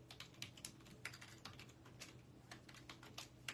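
Fingers type on a computer keyboard at close range in quick, irregular bursts of light clicking keystrokes, faint and steady, with no voices.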